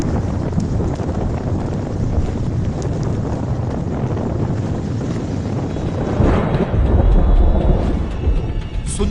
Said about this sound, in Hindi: यहां पहुंचते हुए तूफान अपनी रफ्तार पकड़ चुका था और तबाही की शुरुआत हो चुकी थी।